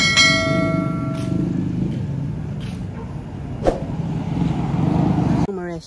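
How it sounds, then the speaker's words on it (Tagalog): Busy road traffic with vehicle horns, a steady drone of passing cars with a long horn blast at the start and a few sharp honks later, ending with a voice speaking close by. "Maingay yung mga busina ng mga sasakyan."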